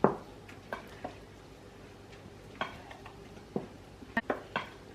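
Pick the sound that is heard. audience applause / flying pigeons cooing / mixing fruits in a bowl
mixing fruits in a bowl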